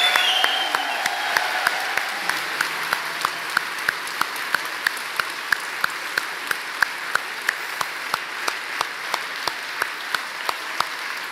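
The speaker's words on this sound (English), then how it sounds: "please keep your applause going for all of our speakers tonight" Audience at a public forum applauding the evening's speakers, a dense, sustained round of clapping from a large crowd that holds steady for the whole stretch.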